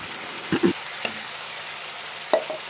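Spices fry in a pan for a rohu fish curry, a soft steady sizzle with a few short stirring scrapes and clicks, no voices.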